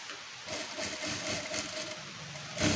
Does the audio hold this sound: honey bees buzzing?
no